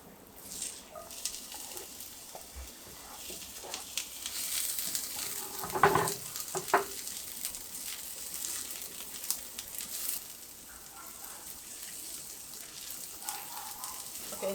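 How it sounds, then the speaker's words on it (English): Bell pepper cooks with onion and garlic in a pan, giving a soft, continuous sizzle. A couple of sharper utensil knocks come partway through. "the bell pepper, I will let it cook together with the onion and with the garlic for around 5 minutes"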